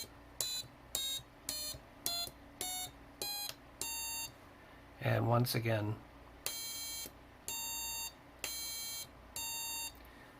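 Electronic toy piano, modified with resistors for more accurate pitch, steps up a scale from A to the next A in separate bright beeping tones with short gaps. A brief spoken phrase interrupts midway.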